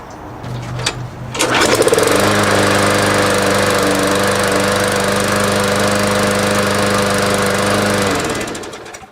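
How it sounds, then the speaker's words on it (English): A small lawnmower engine starts up and settles into a loud, steady running drone for several seconds before trailing off. "start your engine in your lawnmower and let it run for a few seconds"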